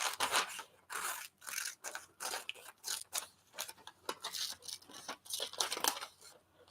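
Scissors snip steadily through a glossy magazine page to cut out a picture of a woman, close and crisp, with rapid repeated cuts and faint paper rustle and no talking.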